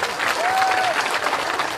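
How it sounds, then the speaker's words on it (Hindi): Crowd at a by-election campaign rally applauds, a steady wash of many hands clapping together, fairly loud and close for a couple of seconds. "गोटे जोरदार करताली हो"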